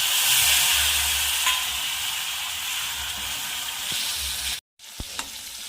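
Tomato going into a pan of frying dry-style broad bean pod vegetable: a steady loud sizzle with stirring scrapes, briefly cut off near the end before the sizzling resumes with a couple of clanks.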